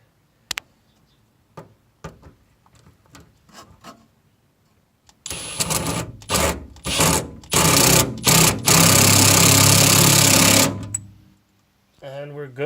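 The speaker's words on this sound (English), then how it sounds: "go underneath and tighten down your hose clamps." Hose clamps on a Ford F250 fuel filler neck are tightened from underneath, starting with sparse metallic taps and then loud, rapid bursts of power-driver whirring and ratcheting, stopping and restarting close by.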